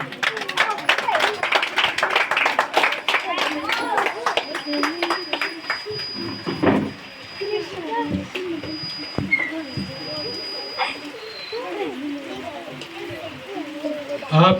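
Applause at an Independence Day celebration, with a dense burst of clapping at first that thins into scattered claps under a murmuring crowd and talk.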